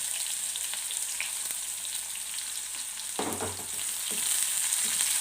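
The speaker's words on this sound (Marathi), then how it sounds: "आता इथे हे तेल पहिलंच ऑलरेडी गरम आहे तर मी आता याच्यामध्ये पटकन अशी मोरी टाकून देते जिरं त्याच्यानंतर मी कांदा टाकते आणि लसूण" Cumin seeds, chopped onion and garlic frying in hot oil, giving a steady bright sizzle that swells louder as more ingredients hit the pan, with occasional stirring scrapes and no talking.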